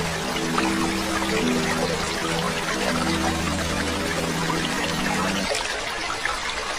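Sea water swirling and lapping around a boat out on the sea, a continuous trickling, sloshing rush under a low steady hum that cuts out near the end, with no voices.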